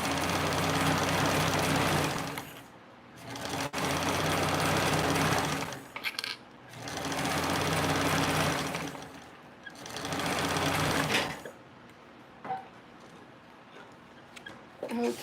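A sewing machine back stitching with the thread ends held: several loud, steady runs of fast motor-driven stitching, each a couple of seconds long and separated by short pauses, close up with no talking.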